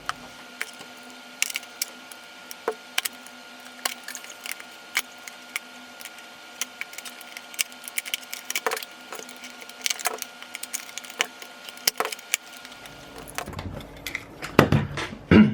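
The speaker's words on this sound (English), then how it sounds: "So I'll just take a knife and I'll just cut a little hole in there." Small knife blade scratching and cutting into the plastic bottom of an amiibo box, a quiet series of short dry scrapes and clicks, growing busier and louder near the end.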